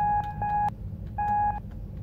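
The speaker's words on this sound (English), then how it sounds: "So we can shut off our alarm" Electronic alarm beeping in the horror video game I Was So Hungry: two clear tonal beep bursts, each with a short stutter, separated by a brief pause over a low ambient hum.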